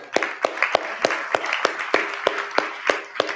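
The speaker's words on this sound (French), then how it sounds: "on l'applaudit" Scattered audience clapping at a gathering in Sophia Antipolis, a dozen or so distinct sharp claps at an uneven rhythm, fairly close and moderate in level, with no talking over them.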